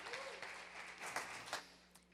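A church congregation applauds together, a steady broadband wash of clapping that holds for a couple of seconds with a few sharper swells, and no talk over it.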